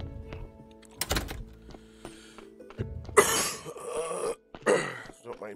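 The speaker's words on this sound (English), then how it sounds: "Be hacking and coughing and wheezing." Coughing and throat clearing from a person during a Graveyard Keeper gameplay recording, several harsh bursts and hacks spread across the moment, close to the microphone, with brief quiet gaps between them.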